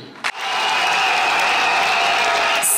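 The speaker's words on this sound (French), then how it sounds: "C'est par des applaudissements que les congressistes du RACI votent oui à la dissolution du parti." Delegates at a RACI party congress applaud to vote yes on dissolving the party. A short sharp burst opens into sustained, loud, steady clapping from a large hall crowd.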